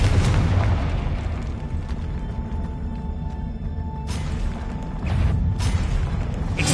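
Confringo blasting spell explosions in the Hogwarts Legacy video game: a heavy boom at the start, a rumbling lull, then two more sharp blasts later, loud and close with no talking.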